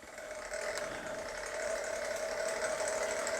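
An Eclipse Rover RC vehicle runs on its own under speed control, its motor holding a steady, buzzing whine with a rattly edge that stays fairly loud and even throughout.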